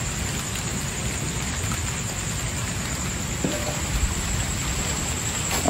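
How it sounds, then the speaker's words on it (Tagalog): Heavy rain pours down at night in a cemetery as a constant dense hiss with a few closer drops and patters, no voices present. "At lumalakas yung ulan."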